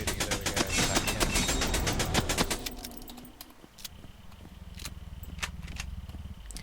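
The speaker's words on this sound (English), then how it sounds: "So I'm gonna shoot these other guys if I can." Rapid bursts of gunfire from a zombie survival shooter prototype, loud and dense for the first two and a half seconds, then scattered single shots over a low rumble.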